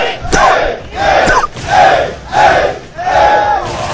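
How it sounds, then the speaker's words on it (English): A Super Street Fighter IV tournament crowd roars in loud, rhythmic chanting bursts, swelling and falling about every half second to a second, close and overwhelming. "Crowd is getting nuts here"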